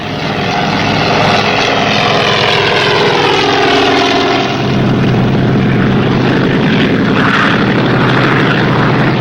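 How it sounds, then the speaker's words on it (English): Helicopter flying overhead near the sea, a loud, constant rotor and engine drone filling the whole stretch with no talk. "and the helicopter above"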